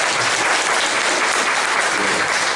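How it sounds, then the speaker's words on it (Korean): A congregation at a Korean church service claps steadily for a blessed family, a dense, even wash of applause at constant loudness throughout. "박수하고 박수 부탁드리겠습니다."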